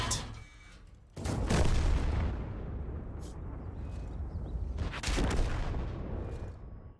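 A Char Futur 4 tank cannon fires in World of Tanks with a deep boom that rolls on as a long rumbling tail, then a second heavy blast follows a few seconds later, both loud and close.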